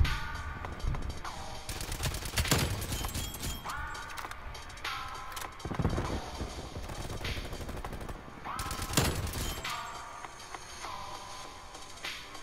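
Gunfire in a video game match: repeated sharp shots and short automatic bursts at irregular intervals, mixed with game tones and effects, with occasional voice beneath.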